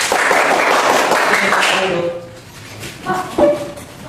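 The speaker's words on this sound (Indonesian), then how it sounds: "Tepuk tangan untuk kelompok 2." A grade 4–5 classroom of students applauding a student group, brisk clapping for about two seconds that fades out, followed by a few scattered claps and faint voices.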